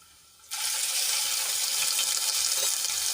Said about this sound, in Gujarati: અને પેસ્ટને આપણે થોડી તેલમાં સાંતળી લઈશું